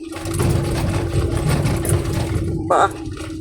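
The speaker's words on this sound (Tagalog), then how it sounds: "So, tunog lang yung exhaust yan, eh." A vehicle exhaust drones steadily on a road near Pagbilao, Quezon, a close, continuous engine rumble with a brief rise near the end.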